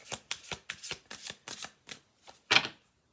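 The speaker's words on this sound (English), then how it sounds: "we're going to do one more shuffle through on this" Tarot oracle cards being shuffled by hand in a quick run of about ten crisp riffles and flicks, close and clear, ending with one louder snap.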